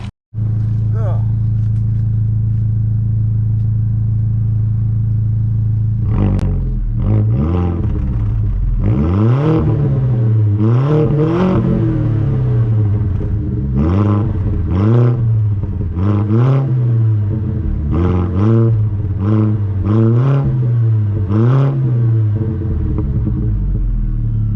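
A personal car's engine idles, then revs repeatedly in rising and falling bursts, loud and close, with a steady rumbling idle between pulls.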